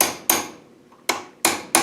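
Metal hammer blows drive a punch into a Land Rover LT85 gearbox casing: four sharp, ringing strikes close by, one then a long pause and three more in quicker succession, with no talking.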